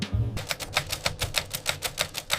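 A typewriter clatters in a quick, steady rhythm of keystrokes, close and fairly loud, with about a dozen evenly spaced strikes and no voices.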